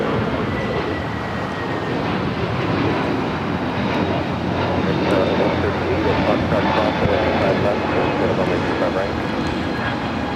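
A jet airliner takes off from runway 25 right at LAX, a loud, continuous engine roar that stays steady throughout and may carry faint radio chatter underneath.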